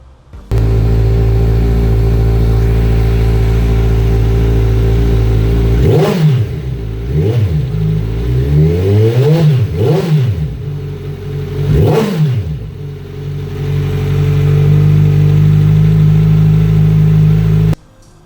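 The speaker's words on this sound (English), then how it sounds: "This is the second stage with just the Vance & Hines cans after I removed the stock tips." Motorcycle fitted with Vance & Hines exhaust cans, stock tips removed, idling loud and close with a deep rumble, then blipped through four or five sharp revs that rise and fall before settling back to a steady idle.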